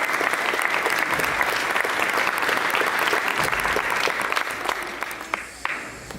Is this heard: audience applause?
yes